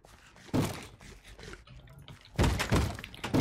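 Two heavy wooden thunks of a door opening and closing in Minecraft, the first alone and the second a louder double knock after a quiet gap.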